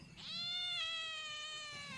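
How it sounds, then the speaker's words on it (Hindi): A single drawn-out cat meow, loud and close, with a rising start and a long wavering tone that slowly fades, no talking. "देखो बिल्ली की रोने की आवाज़।"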